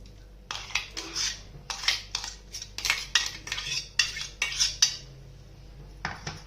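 A spoon scraping ground raw mango chutney out of a mixer-grinder jar into a bowl, a quick series of metallic scrapes and clinks, close and clear, with no talking.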